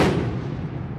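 A 120mm mortar at a live-fire range, one heavy booming report at the very start that rolls and decays over about a second, loud and close, no voices.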